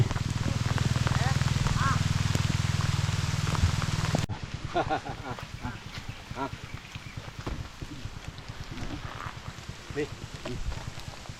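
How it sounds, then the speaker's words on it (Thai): Rain falls on a durian orchard, a dense, steady hiss of drops on leaves and ground that cuts off partway, giving way to scattered patter and rustling with people talking. "ฝนตกแล้วทีมงานก็ต้องลงไปหลบฝนก่อนนะครับ"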